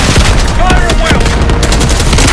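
Rapid automatic gunfire mixed with heavy booms in Call of Duty Black Ops 6, dense and loud throughout a chaotic burst of battle.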